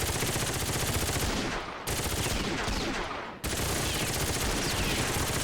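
A silenced machine pistol fires in the 2005 video game NARC: rapid, steady automatic bursts in three long runs, broken by two brief pauses, loud and close throughout.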